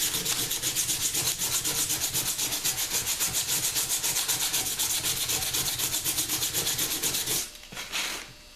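Wooden revolver grips being sanded by hand with progressively finer sandpaper, a steady rapid back-and-forth scratching rasp that carries on without pause for about seven seconds and then slows and stops.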